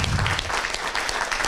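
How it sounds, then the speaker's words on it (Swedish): Audience applause at a Swedish social-enterprise innovation forum, a steady wash of many hands clapping close by, dense and continuous with no speech over it. "då föreslår jag att vi ger alla medverkande här en stor applåd"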